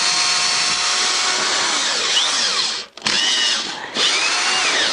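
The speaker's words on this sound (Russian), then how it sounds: "чтобы проще работать, и тоже сначала насверлю" A power drill pre-drilling holes in a 21 mm plywood floor laid over beams, a loud, close, continuous high whine that briefly cuts out twice before spinning back up.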